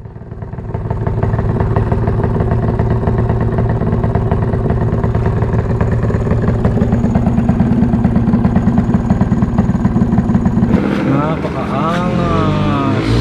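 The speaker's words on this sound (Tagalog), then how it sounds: "Napakaangas ng drag bike." A Honda XRM drag bike engine runs loud and steady close by for about eleven seconds, with a dense mechanical drone and rattle, then the sound shifts near the end as the revs drop.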